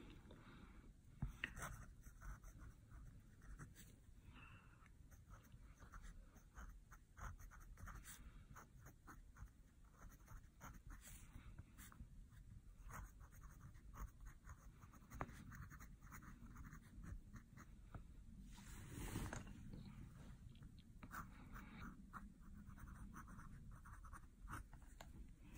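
A Pilot Custom 823 fountain pen with a fine nib writes on paper, giving a steady, faint scratching of strokes with small pauses, close up and quiet, with no talking.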